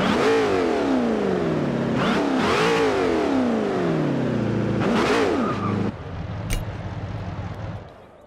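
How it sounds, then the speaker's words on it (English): Supercharged-sounding Bowler V8 in a racing video game, revving hard through repeated rising and falling sweeps with gear changes, loud and continuous before dropping to a lower drone and fading. "the bowler sounds crazy. It is absolutely insane sounding."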